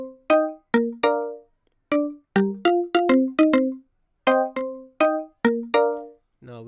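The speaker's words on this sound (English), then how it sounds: "So that's what how I achieved my marimba, which was actually used in the video" Unprocessed marimba line from an instrumental breakdown of a song: a bouncy run of short, bright mallet notes in syncopated bursts, with a brief pause midway, played clean and close.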